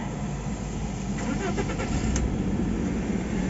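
A 2006 Volkswagen Polo with a 1.4 MPI petrol engine, automatic gearbox and gas conversion cranks and starts, then runs on at a steady, even idle, heard close by.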